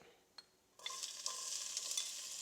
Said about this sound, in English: I just really love that sound of when the food hits the grease, it starts to sizzle and pop